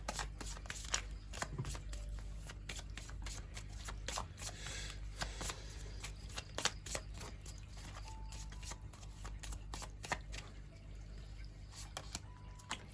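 Tarot cards from a Major Arcana deck being handled and shuffled, giving a steady run of soft riffling and flicking over a constant low background hum, with no talking.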